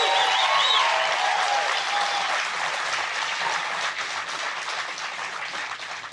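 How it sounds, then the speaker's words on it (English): Conference audience applauding a speaker at a homesteading gathering: broad, sustained clapping from a large crowd, tapering gradually toward the end, with a faint voice briefly audible at the start. "So give him a big round of applause."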